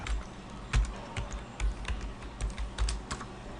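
Keys clatter on a computer keyboard in short uneven bursts of clicks, close and fairly quiet, with no one talking.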